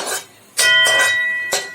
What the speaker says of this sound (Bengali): এগুলো এবার আমি ভাজা কুমড়োর বীজগুলো আমি তুলে নিচ্ছি